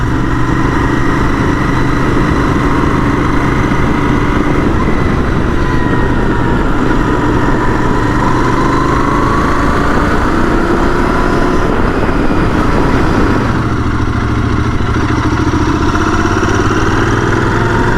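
Royal Enfield Interceptor 650 motorcycle ridden on a winter road in the UK, its engine a loud continuous drone with slowly rising and falling pitch as revs change, no speech over it.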